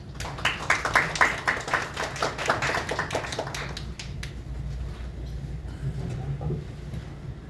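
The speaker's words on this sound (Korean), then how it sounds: "큰 박수로 맞아주시기 바랍니다." Audience clapping to welcome a pharmaceutical executive to the stage at a hepatitis academy event, dense and loud at first, then thinning and fading out toward the end.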